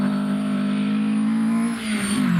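Alfa Romeo 1600 GT Junior historic rally car engine on a Mid Wales stage, holding a loud, steady buzzing note close by that dips briefly and then climbs again near the end.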